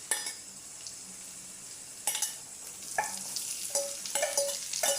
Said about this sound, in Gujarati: તેલ બળી જાય પહેલાં આપણે ડુંગળી પણ નાખી દઈએ